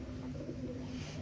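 A 1.5-year-old Rampuri pigeon at a Lahore pigeon market coos softly and briefly against a dense background hum.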